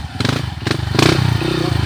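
A custom-modified enduro motorcycle rolls onto a dirt cross track, its engine rumbling up close with a few thuds and clatters as it moves off slowly, while people talk over it.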